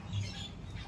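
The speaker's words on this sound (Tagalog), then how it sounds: "Busy talaga itong mga kalapati na to ba." Pigeons at a house in need of cleaning give a short, close squawking call over low background rumble, lasting under a second.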